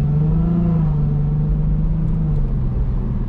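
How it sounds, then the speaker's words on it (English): An Infiniti car engine holds a steady, loud droning rev, its low hum rising slightly then easing back over a few seconds, with no voices. "I like the sound of this Infiniti"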